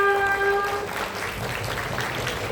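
An audience at a provincial quiz competition round applauds a team, a dense wash of clapping that follows a brief tonal chime at the start, moderately loud and steady.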